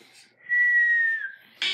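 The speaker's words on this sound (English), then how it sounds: "This is how you whistle." A person whistles one sustained, slightly wavering note for just under a second, close and clear, with a breathy burst of air at the end.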